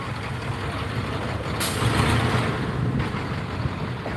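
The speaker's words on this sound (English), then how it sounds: "We got dueling tow trucks. Two tow trucks showed up for one car." Two tow trucks idle at a car crash scene in Corpus, a close, constant diesel rumble with a sharp hiss of an air brake release partway through and no talking.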